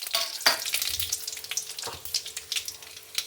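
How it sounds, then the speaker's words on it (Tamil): Mustard seeds and torn dried red chillies spluttering in hot sesame oil, a crackling sizzle full of quick sharp pops and a few louder bursts, close up with no voices. "கடுகு பொரிஞ்சிருச்சு"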